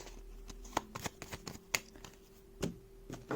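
Tarot cards are gathered and tidied away on a table, giving a quiet, close series of irregular light taps, slides and flicks of card stock.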